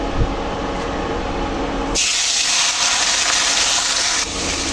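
Fish roe drops into hot oil in a wok, and a loud sizzling hiss surges up partway through and then holds steady, close and with no speech.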